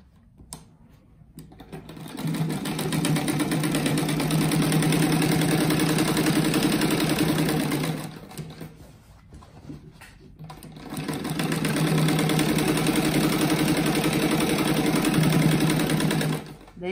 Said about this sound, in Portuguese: agora eu vou passar uma costura aqui